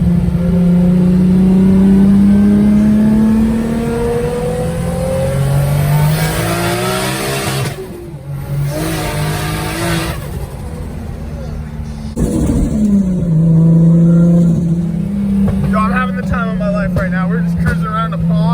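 A 500-horsepower RB25-swapped Nissan 240SX revs loud and close, its engine note climbing and falling in sweeping pulls, easing briefly midway before surging again, with people talking over it.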